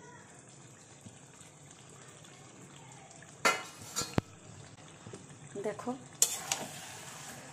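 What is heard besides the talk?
mutton cooking in a pan covered with a plate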